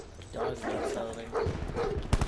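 A dog in Call of Duty Black Ops 4 lets out several short barks and yips in quick succession, fairly close, mixed with game noise and ending in sharp impact sounds.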